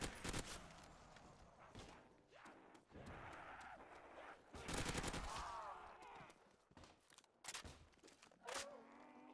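Bursts of gunfire from Call of Duty: World at War Nazi Zombies crack out in uneven volleys and single shots, with gasps and breathy sighs between them and some quick rapid-fire runs.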